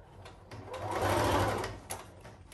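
A sewing machine stitches a fabric Christmas stocking with fur trim in one short, close burst that swells and fades, with light clicks around it.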